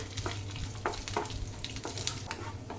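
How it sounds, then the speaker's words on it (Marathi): Whole cashews and sliced almonds roasting in hot ghee, a soft continuous frying crackle with a few light scrapes of stirring, close but fairly quiet, no speech. "तूप छान गरम झालं की आता आपण टाकून घ्यायचे काजू बदामचे जे काप केले होते"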